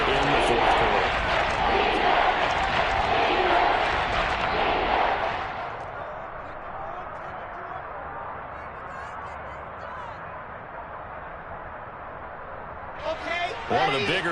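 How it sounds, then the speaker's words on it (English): A stadium crowd in the Madden NFL football video game roars loudly for several seconds, then drops to a low murmur under a play-by-play commentator's voice, with a brief swell near the end. "the crowd getting into it as we come up on a big third down"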